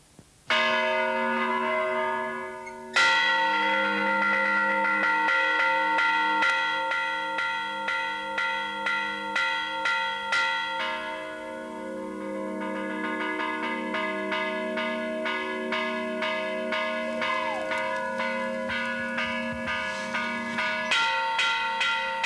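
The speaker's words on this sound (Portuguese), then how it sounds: "Na aldeia de Mochagata, os sinos ainda lamentam o fim da barragem." Church bells ring out loud and close in the village of Muxagata, Portugal, a rich clanging peal with overlapping tones that pauses briefly and then resumes in a steady, repeating pattern.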